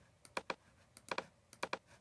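Fingers tap a computer keyboard in short bursts of quick, crisp key clicks with brief pauses between them, close and quiet, with no talking.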